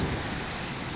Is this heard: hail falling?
yes